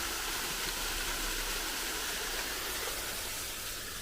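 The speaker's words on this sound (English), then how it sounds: "still a beautiful little waterfall and worth checking out" A small waterfall on the Warwoman Dell nature trail in Clayton, Georgia, rushes continuously at moderate distance, a broad, even roar of falling water with no talking.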